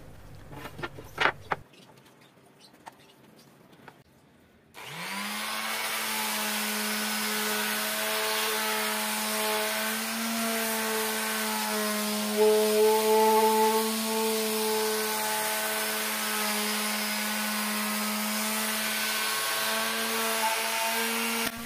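A Stanley SS24 orbital square sander starts up after a few light handling clicks and runs steadily and loudly for the rest of the span, its motor giving a constant tonal whine with a slight shift in pitch partway through.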